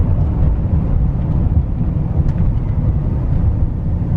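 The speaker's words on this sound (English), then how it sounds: "Now let's see with the exhaust brake on how it's going to want to downshift." A Chevrolet L5P diesel pickup with a tuned 10-speed transmission downshifts with the exhaust brake on, a loud, steady low rumble and drone with no distinct shift breaks.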